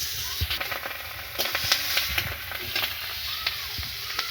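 Whole cumin seeds crackle and sizzle in hot oil as a spice tempering for a vegetarian pointed gourd and paneer korma, a steady dense hiss broken by small sharp pops and stirring clicks, close and fairly loud with no voices.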